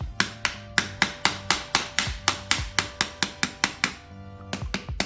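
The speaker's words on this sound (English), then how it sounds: "Use the hammer." A hammer strikes repeatedly to drive a shock cup and PVC pipe out of a 1983 Buick Regal G-body with hydraulics, about twenty sharp metallic blows in a steady rhythm, close and loud, with a brief pause near the end.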